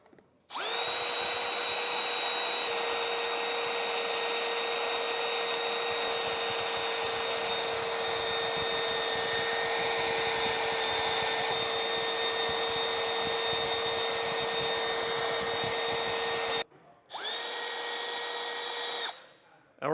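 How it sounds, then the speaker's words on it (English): A power drill whirs steadily with a bright, high-pitched motor whine while being used to drill a hole for a Front Runner Slimline II roof rack, close and loud, running continuously before a brief stop and a second short run. "Just run the electrical tape on there with the drill running"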